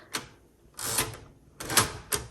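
A 1961 Smith-Corona Galaxie typewriter has its margin set with a few sharp mechanical clacks and sliding rasps, close and fairly loud, the bursts coming in short irregular groups with quiet gaps between.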